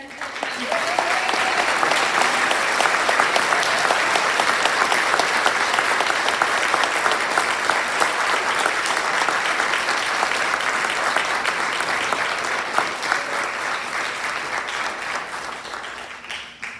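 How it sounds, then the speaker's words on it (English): A school audience at a 5th–7th grade honors assembly gives the PFA president sustained applause. The dense, steady clapping fills the hall for about sixteen seconds before tapering off at the end. "Please join me in a well-earned round of applause for Greta Newman, PFA president."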